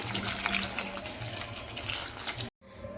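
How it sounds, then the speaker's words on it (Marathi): Water runs steadily from a tap into a bowl of mushrooms, a continuous splashing stream that cuts off abruptly near the end. "आता यामध्ये पाणी घालायचं"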